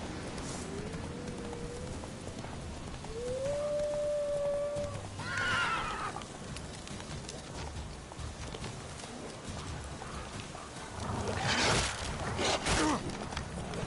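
Roach, a horse in The Witcher 3, moving at speed: soft rhythmic hoofbeats under faint ambience, a tonal whinny-like call early on and louder rustling bursts later, fairly quiet overall.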